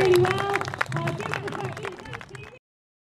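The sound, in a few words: festival audience round of applause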